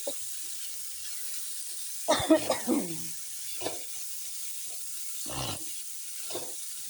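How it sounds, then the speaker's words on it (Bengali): Carrots and beans being stirred in a pan for vegetable chowmein, heard as a few short clattering, rustling bursts of stirring separated by quiet stretches, fairly close and moderate in volume. "তারপর গাজর বিনস গাজর ভালো করে একটু নেড়ে দিলাম"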